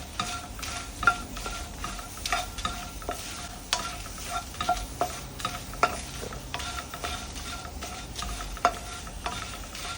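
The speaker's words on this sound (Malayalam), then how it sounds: "ഇനി നമ്മൾ ചില്ലീസ് വറുത്തെടുക്കും. ഒന്ന് റോസ്റ്റ് ചെയ്തെടുക്കുക മീഡിയം ഫ്ലെയിമിൽ. പിന്നെ കറി ലീവ്സ് ഇടുക. കറി ലീവ്സ് ക്രിസ്പ് ആവുന്നവരെ വറുക്കുക." Dried chillies and curry leaves dry-roasting in a pan over medium flame, a steady faint crackle broken by repeated scraping stirs of a spatula against the metal, close and without voices.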